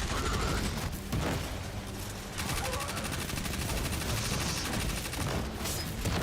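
Rapid SMG gunfire from the video game Destiny 2, a dense continuous rattle of close shots mixed with game effects, with a voice talking briefly over it.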